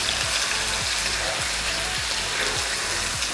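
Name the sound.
sautéing garlic, onion and chili in oil and ghee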